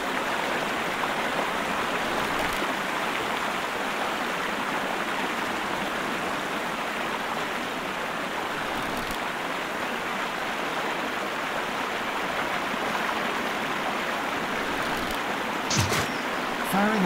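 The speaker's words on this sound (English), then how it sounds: "Get ready for some loud water," Loud rushing water near a bridge in a Sherlock Holmes: Crimes & Punishments game level, a steady broadband roar that stays close and constant throughout with no pauses.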